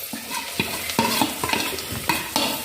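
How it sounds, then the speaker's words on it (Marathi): Pea (matar) paratha filling with chili powder and asafoetida stirred and fried in hot oil in a pan: close, repeated scraping stir strokes over a soft, steady sizzle, with no voices. "तर तेलात सारण घालूया."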